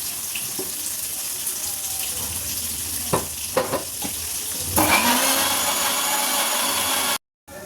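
Masala with tomato, ginger and green chilli frying in a wok: a few scattered utensil knocks, then a louder hiss of sizzling that swells and holds steady.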